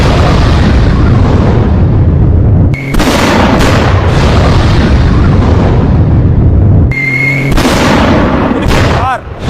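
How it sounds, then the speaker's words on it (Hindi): Violent blasts from a military strike of Israel on Iran, loud, dense booming and rumbling explosions filling the whole stretch, with brief gaps and renewed bursts near the middle and end. "कार तक हवा में उड़ गई। ये धमाका इतना भीषण था।"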